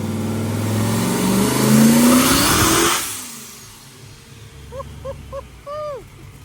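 A Datsun fitted with a rotary engine runs a pull on a dyno, its engine droning loud and rising in pitch for about three seconds, then dropping away to a quieter low rumble with a few short chirps.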